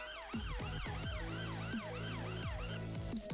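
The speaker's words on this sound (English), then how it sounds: "it seems to be quite an older, weird siren to this and not what we want" An old, oddly pitched siren on a Roblox emergency vehicle in a video game, wailing loud and steady in repeated rising and falling sweeps with no talk over it.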